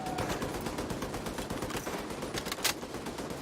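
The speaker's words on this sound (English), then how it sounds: "We'll get around to that machine gun." Rapid bursts of enemy light machine gun fire in The Division 2, dense repeated shots with one sharper crack near the end, moderately distant and continuous.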